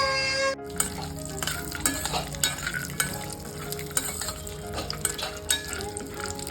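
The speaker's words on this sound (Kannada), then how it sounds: "ಬಾದಾಮನ್ನ ಇವಾಗ ಸ್ವಲ್ಪ ಫ್ರೈ ಮಾಡ್ಕೊತಿದ್ದೀನಿ" Almonds fry and get stirred in a pan over a medium gas flame, giving a steady crackling sizzle broken by scraping stirs and light clinks of the utensil against the pan, close up with no voices.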